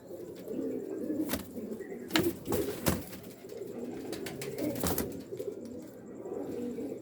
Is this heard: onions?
no